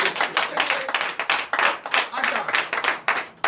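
Rhythmic clapping from a church congregation at a Sunday worship service in Comè, Benin, beating in a steady pulse, close and lively, with singing voices mixed underneath.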